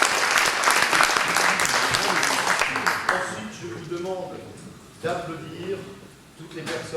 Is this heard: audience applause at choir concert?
yes